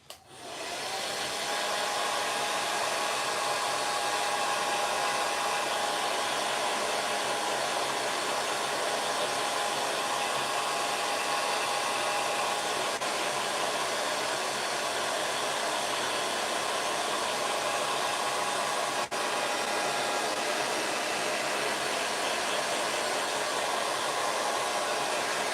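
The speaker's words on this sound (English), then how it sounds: "I'm just going to give him a super quick blast with a hairdryer." A hairdryer blows to dry paint on an Ork miniature, giving a steady, close, continuous whooshing whir that holds unchanged for about 25 seconds, with no voices.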